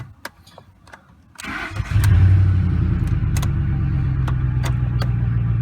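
A 2004–2008 Ford F-150 with a stalling transmission cranks briefly after some clicks and light rattles, then starts and settles into a loud, steady idle. The engine is close, with faint ticking over the rumble and no talking.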